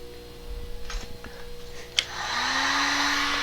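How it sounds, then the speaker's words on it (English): A hot air gun blows steadily across a freshly coloured wax finish, its broadband whoosh with a rising motor whine starting abruptly after some quiet handling clicks and a sharp knock, then holding loud and constant. "give it a little going over with a hot air gun before we move on to the next step"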